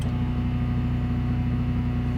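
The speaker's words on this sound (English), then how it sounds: "You can hear the generator work a little bit harder." A portable generator drones steadily under the load of a running microwave, a loud, even hum with a strong low tone and no breaks, close up.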